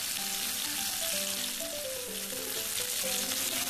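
Pumpkin pieces frying in a pan for a vegetarian chorchori hiss and sizzle evenly and continuously, close up and fairly quiet, with faint background music and no talking.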